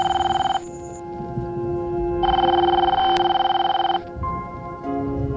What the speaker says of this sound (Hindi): I am really sorry, my phone is ringing.